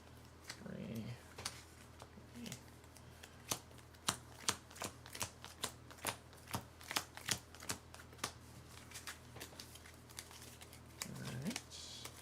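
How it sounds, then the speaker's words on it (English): Crisp riffling and snapping of playing cards being shuffled, a rapid series of sharp clicks, with brief soft rustles at the start and end. "Shuffle those up."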